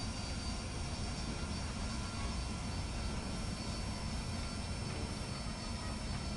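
An AV-8B Harrier jet taxiing in the DCS flight simulator, a constant loud engine roar and whine holding steady throughout with no voices.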